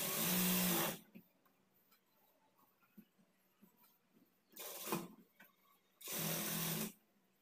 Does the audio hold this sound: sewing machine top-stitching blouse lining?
yes